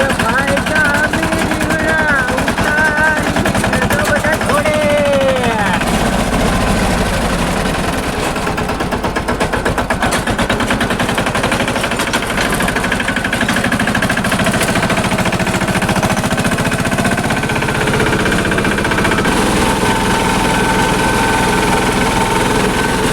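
A farm tractor engine runs continuously, loud and close, with a rough chugging throb that holds steady throughout, while a voice talks briefly near the start.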